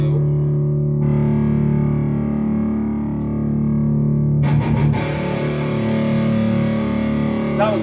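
Electric guitar played through an amp with the gain knob cranked, a loud, heavily distorted sustained chord that rings steadily, then a fresh, harsher struck chord with a buzzing fuzz tail.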